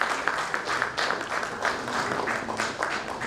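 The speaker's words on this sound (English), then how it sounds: "Once again, can we have a huge round of applause, please?" An audience claps after a panel session, a dense, steady round of applause that lasts the whole few seconds with no voices over it.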